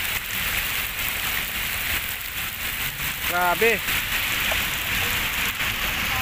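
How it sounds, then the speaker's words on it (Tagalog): Heavy rain pours steadily outdoors in front of the US Embassy, a dense constant hiss close by, with someone speaking briefly over it. "Sobrang lakas ng ulan guys, no?"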